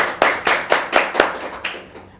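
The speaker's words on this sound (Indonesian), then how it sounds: "tepuk tangan dulu teman-teman" A small group claps hands in a short burst of about eight sharp, evenly spaced claps during an Indonesian talk session on product photography, close and clear with no speech over it.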